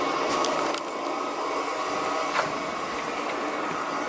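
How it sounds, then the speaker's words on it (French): A household vacuum cleaner runs steadily throughout, a continuous broadband hum with a few faint clicks and knocks, fairly close and without talk. "l'aspirateur va travailler."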